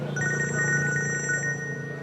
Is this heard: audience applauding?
no